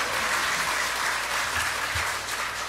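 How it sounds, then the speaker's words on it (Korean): Loud, sustained applause fills a welfare policy forum as the audience claps for the panel on stage, a thick continuous roar of hands with a few low thumps. "함성과 함께 큰 박수를 좀 보내주십시오."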